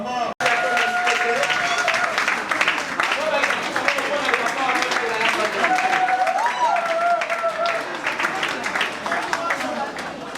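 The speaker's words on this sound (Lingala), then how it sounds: "on va acclamer pour papa" Wedding guests break into sustained applause, a dense patter of clapping hands filling the room alongside voices and some background music, holding steady throughout.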